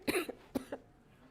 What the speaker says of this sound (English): I just sound terrible when I cough.